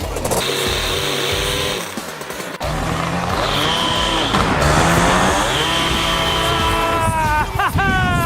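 A small engine mounted on a homemade swing runs loud and close, a rough buzzing drone that dips briefly, then climbs and wavers in pitch as it revs.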